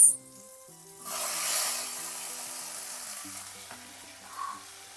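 Tomatoes, onions and carrot frying in butter in a pan give a steady, moderate sizzle with a brief louder stirring burst near the start, then a softer continuous hiss.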